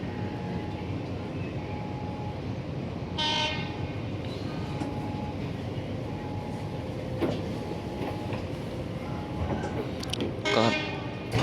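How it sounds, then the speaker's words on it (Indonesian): A local passenger train rumbles past nearby in Indonesia with steady rolling noise, brief horn toots, and clattering wheels, loud throughout. "Ini kereta api lokal teman-teman."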